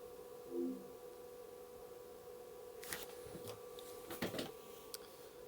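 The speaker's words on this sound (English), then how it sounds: "Let's see if the DVD reads." A Sony PlayStation 2's DVD drive reads a disc: a soft steady hum with a brief low whirr near the start, then quiet clicks and ticks of the laser mechanism seeking.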